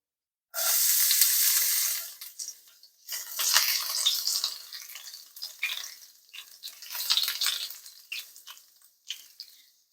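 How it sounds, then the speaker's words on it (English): Garlic sizzling in three tablespoons of extra virgin olive oil over medium heat, a bright hiss that flares up loudly as it hits the pan, then crackles on in uneven waves. "I'm going to add the garlic in now."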